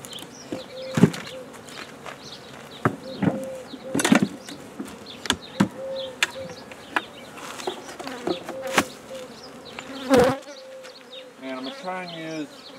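Honeybees buzz loudly around an opened mating nuc hive, with close droning passes sweeping in and out over a steady hum, plus sharp knocks and clicks from handling frames.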